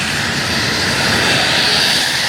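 Airplane engine during a flight from Langkawi: a loud, continuous droning roar heard from inside the cabin, steady for the whole span with no talking.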